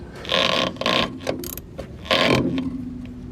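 A socket wrench works loose the shock nuts on a 2008 Ford F350, several short bursts of metallic ratcheting clicks with pauses between strokes, close and clear with no talk.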